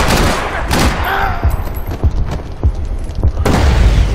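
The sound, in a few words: gunfire from a video game, Max Payne 3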